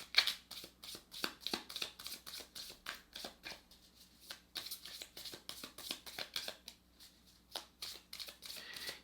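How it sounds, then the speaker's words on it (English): Tarot cards shuffled by hand in a steady run of quick, crisp riffling bursts, close and fairly quiet, with no talking. "while I'm shuffling, I just kind of study them"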